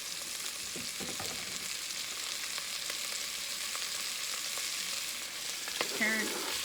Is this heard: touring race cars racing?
no